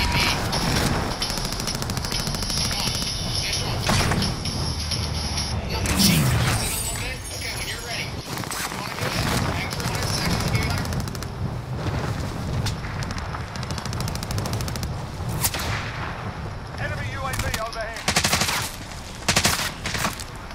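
Light machine gun fire in Call of Duty: Modern Warfare, bursts of rapid shots crackling amid other game gunfire and effects, loud and dense throughout, with someone talking over the action.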